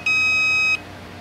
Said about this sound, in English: testing on pins 1 and 2 while listening for a beep